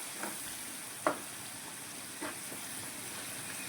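Onions with turmeric sautéing in a pan for a mixed five-vegetable curry. A faint, steady sizzle with a few soft stirring clanks spaced over a few seconds.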